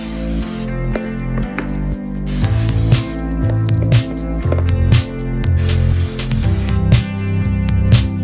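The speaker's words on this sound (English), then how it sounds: "I'll spray my drumsticks with some oil so my Cajun seasoning sticks to them." A loud, close hissing spray of cooking oil onto chicken drumsticks in repeated bursts over a steady low hum, with brief gaps between sprays.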